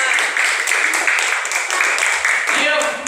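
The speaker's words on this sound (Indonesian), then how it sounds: "Oke, tepuk tangan dulu." A classroom of students clapping together, a dense continuous burst of applause that stays loud for the whole stretch.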